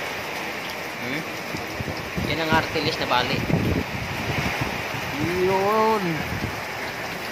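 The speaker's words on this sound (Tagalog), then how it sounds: "hanggang ngayon malakas pa rin yung ulan" Heavy rain and gusting wind of Typhoon Ulysses roar steadily through a residential neighborhood, a dense, constant wash of noise with people talking over it in the foreground.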